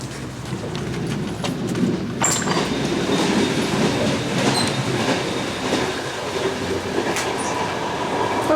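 A train in Portugal rumbles steadily along the rails with occasional clicks and faint metallic squeals, heard from inside the last carriage.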